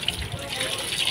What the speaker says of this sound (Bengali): মাছটা ধুয়ে শাকটাও ধুয়ে নেবো আমি আগে, নাহলে কলের জল চলে যাবে